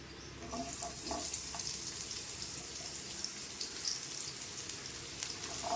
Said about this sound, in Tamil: இப்போ இதில் கட் பண்ணி வச்சுருக்கிற வெங்காயத்தை போட்டுக்கலாம்.